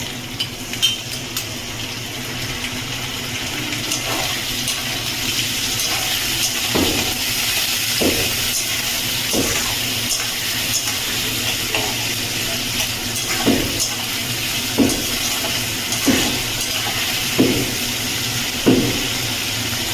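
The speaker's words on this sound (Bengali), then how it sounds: "চিংড়ি মাছের সাথে আলুটা আমি আরও 5 মিনিট ভেজে নেব।" Potato and prawns frying together in a pan give a constant hissing sizzle, with soft utensil taps and stirring knocks repeating every second or two, close by and with no talk.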